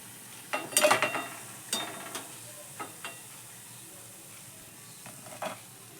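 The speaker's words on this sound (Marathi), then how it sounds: "आता दुसरे पण आपण असे तळून घेणार आहे" Pea-flour vadas frying in oil over a low flame, with soft sizzling and a few scattered sharp crackles and bubbling bursts, moderately close and fading to quiet hiss between them.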